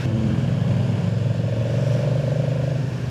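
A Moto Guzzi V100 twin-cylinder motorcycle rumbles at low revs while being ridden, its deep, throbbing engine note steady and close throughout with slight rises and dips in pitch.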